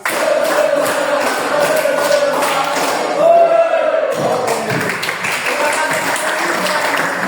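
Students in a classroom clap a rhythmic counted pattern, bursts of sharp claps in groups with voices chanting alongside, fairly loud and close.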